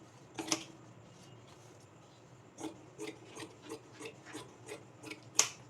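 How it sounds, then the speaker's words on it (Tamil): Scissors cut fabric for an umbrella frock at a tailoring class: one snip, a pause, then a steady run of about eight faint rhythmic snips ending in a sharper cut. "ஸோ இந்த அளவு வச்சு நான் கட் பண்ணி எடுத்துக்கிறேன்."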